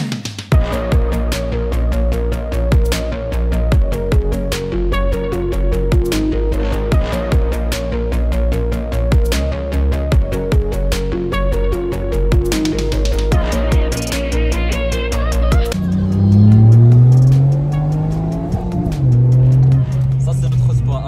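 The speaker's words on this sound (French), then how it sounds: "Et la Porsche qui a démarré déjà devant." Cars on the Spa race circuit, including a Porsche, Mini and RS3, rev and pull away nearby, with loud engine drone and rising revs and someone talking over the noise.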